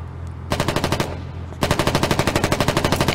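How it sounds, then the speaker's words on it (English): Automatic machine gun fire in the war game Foxhole: a short fast burst, a brief pause, then a longer sustained stream of rapid, evenly spaced loud shots close by. "I have a machine gun. I love ammo for it."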